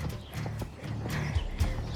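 A horse moving at a show jumping competition, soft hoof thuds and a couple of heavier low impacts, fairly faint, with background arena noise.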